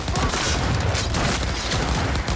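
Shotgun fire in Cyberpunk 2077 during a firefight: loud, dense blasts layered with other gunfire and combat noise, continuous and close with no pauses.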